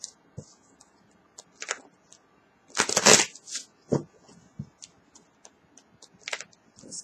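Tarot cards being shuffled by hand, heard as close, sparse riffles and soft taps, with one loud burst of rapid card flutter midway, in an otherwise quiet room.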